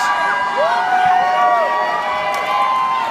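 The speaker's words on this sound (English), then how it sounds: "Crowd is going wild here, folks." A wrestling crowd cheers and shouts loudly throughout, with rising whoops and a voice calling out over the steady roar.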